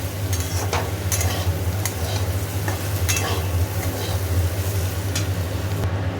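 Vegetable curry sizzling loudly in a pan as it is stirred and water goes in, a dense continuous frying hiss with spoon scrapes, close and alone.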